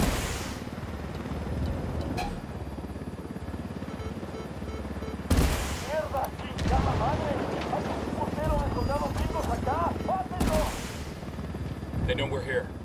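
Gunfire rings out in the video game Ghost Recon: Wildlands, with sharp loud bursts and sustained volleys over a rumbling combat backdrop while voices talk over the action.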